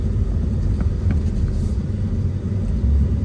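A car or truck rumbles steadily past at close range on a road beside a trailer, a low continuous engine drone with no talk.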